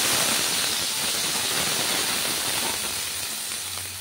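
Hot mustard oil hisses loudly as water is poured over fried potatoes with poppy seed paste, a steady broad sizzle and steam rush that fades slightly toward the end, with no voices.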